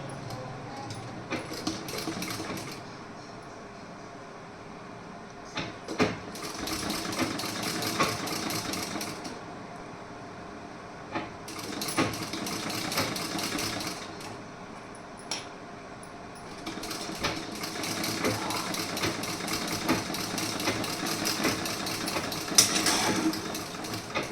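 A sewing machine stitching a blouse piece, running in long steady whirring stretches broken by short pauses, close and fairly loud, with no talking.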